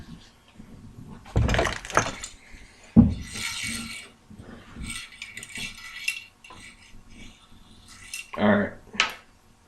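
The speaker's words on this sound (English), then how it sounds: "Now, we put the barrel and the receiver back in the stock." The barrel and receiver of a Mosin Nagant 91/30 rifle go back into the wooden stock, with scattered metallic clicks, knocks and scraping handling sounds close up, a brief spoken word among them.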